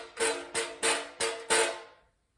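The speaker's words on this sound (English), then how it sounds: "Do you have roof vents that look like this and on a windy day sound like this?" A metal roof vent louver flapping in the wind, making five loud rattling bursts at roughly half-second intervals before a short silence.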